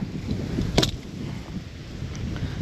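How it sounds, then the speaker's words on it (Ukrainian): Strong gusty side wind buffets the microphone on a fishing outing by the water, a continuous low rumbling roar up close with a brief sharp knock midway and no talk. "Дує зараза, все здуває."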